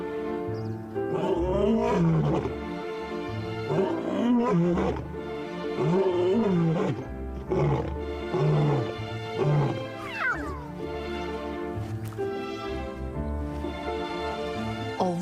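Lions roaring in the wild, a series of deep, drawn-out calls that rise and fall in long repeated bouts, loud and close with no voices over them.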